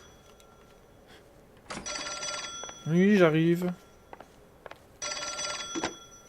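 Old-fashioned telephone bell in the video game L.A. Noire rings in two loud, close bursts, each about a second long, separated by a short stretch where someone speaks over a faint background.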